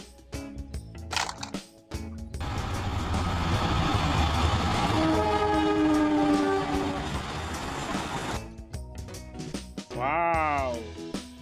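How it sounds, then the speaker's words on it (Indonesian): A toy train plays its sound effects, a rolling rumble with horn-like tones swelling in the middle. Short clatters come before and after, and a rising and falling electronic whistle sounds near the end. "Wih, ini ada kereta api."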